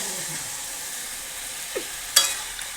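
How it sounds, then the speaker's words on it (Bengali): Spiced meat and potato curry sizzles in a pan with a soft, constant frying hiss, then water poured in brings a brief, sharp burst of sizzling near the end. "এই যে আমরা এখন কষানের জল দিচ্ছি।"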